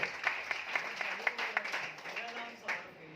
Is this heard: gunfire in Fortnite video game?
no